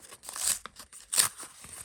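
A paper surprise packet is torn and crinkled open up close, in two main ripping bursts with smaller rustles between.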